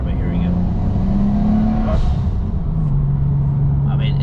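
HKS 2.8L stroker Nissan GT-R R33 V-spec engine heard from inside the car while driving in winter, a steady loud drone that shifts pitch as the revs change, with a person talking over it.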